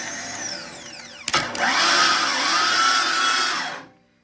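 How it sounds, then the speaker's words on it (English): A power tool whirs as an engine is turned over through the torque converter bolts during an MK2 Escort build. A loud, rising whine starts with a click and holds for about two seconds before cutting off. "So that definitely turns the motor over, so that confirms our theory."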